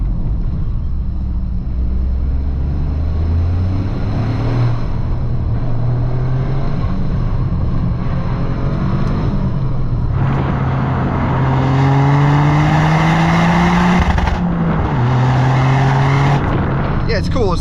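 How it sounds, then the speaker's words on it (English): A 2024 Toyota GR Corolla under acceleration, engine note rising and falling through gear changes, with a high turbo whistle riding on top as revs climb, loud and close from inside the cabin. "I'll just see if you can hear that turbo whistling off the wall here."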